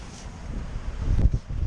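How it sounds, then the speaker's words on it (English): Low rumbling wind buffets the microphone, swelling into a few heavier gusts near the end. "windy again."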